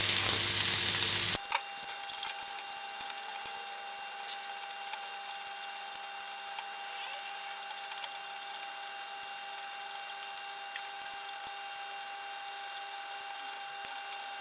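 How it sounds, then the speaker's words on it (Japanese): Drained carrot and burdock strips fry in sesame oil in a frying pan with a steady close crackling sizzle, crisp pops and occasional stirring scrapes, after a brief louder burst at the start. "それではフライパンに火をつけて、ごま油を敷いて、水気を切った人参とごぼうを入れていきます。"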